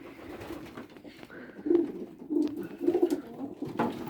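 Pigeons cooing in a pigeon loft, several low, throaty coos repeating in short bursts close by, with faint shuffling and rustling in the background.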